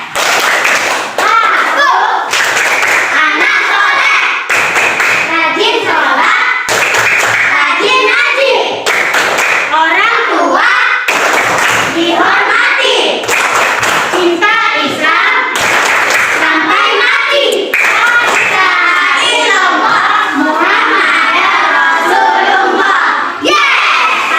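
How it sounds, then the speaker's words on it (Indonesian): Children perform the rhythmic tepuk anak soleh clapping chant in a classroom, bursts of hand claps alternating with chanted voices in a steady call-and-response pattern, loud and close throughout. "kita mari tepuk anak soleh ya"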